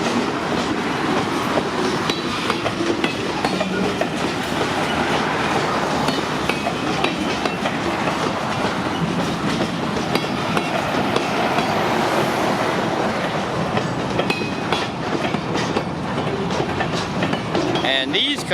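A freight train rolls past close by, steady rumble and rattling cars with repeated clickety-clack of wheels over rail joints and occasional metallic squeals, loud and continuous throughout.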